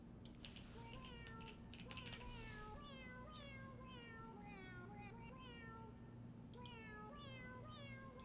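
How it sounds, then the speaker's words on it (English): Several house cats meow in repeated rising calls over steady computer keyboard typing and a low hum, some calls overlapping. "Why are your cats singing, man?"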